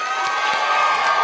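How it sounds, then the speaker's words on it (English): A studio audience cheers and claps for a newly introduced comedy partner at a live stage show, a steady, loud wash of crowd noise with whoops and shouts throughout. "You have to stop clapping."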